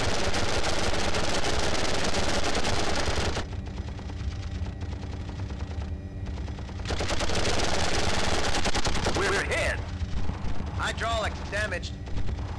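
An Apache helicopter's gun firing in a combat video game, long rattling bursts of rapid shots with booming impacts, broken by a short pause, while a voice speaks over the action.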